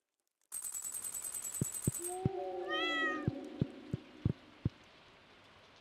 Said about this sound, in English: We pet our cat, who was adorable and amazing.